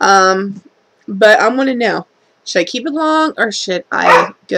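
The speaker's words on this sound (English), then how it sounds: "Sorry about my dog barking" A house dog barks and yips in short bursts, mixed in with someone talking continuously in clear, close phrases.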